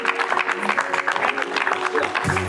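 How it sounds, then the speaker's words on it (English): An audience at a reality show boot camp applauds, dense steady clapping at close range, with a voice briefly audible under it. "let's give them a round of applause"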